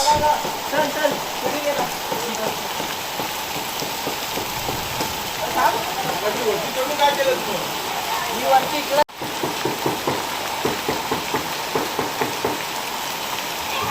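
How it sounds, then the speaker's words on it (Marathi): Summer hailstorm in the Konkan, a continuous patter of hail and heavy rain striking surfaces close by, with occasional voices in the background. "गारांचा पाऊस."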